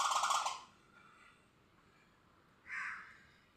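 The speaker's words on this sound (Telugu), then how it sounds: "అవి ఆహ్లాదంగా పిచ్చుకలన్నీ సౌండ్ చేస్తూ ఉంటే ఎంతో ఇదిగా ఉంటుందన్నమాట." Birds call from a mango tree near a home where sparrows nest, two short harsh cawing bursts at the start and near the end, with quiet pauses between, moderately near.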